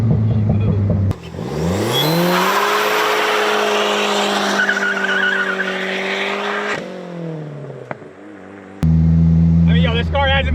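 A 1985 Dodge minivan with a swapped-in turbocharged SRT4 engine roars as it accelerates hard, its tires squealing loudly for several seconds before the engine note drops away, followed by short bursts of further noise.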